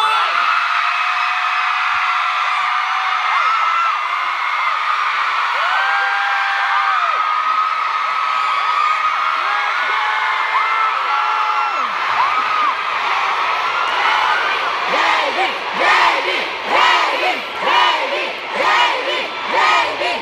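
A large concert crowd cheers and shouts loudly and continuously at a world tour show, with rising whoops and screams swelling toward the end.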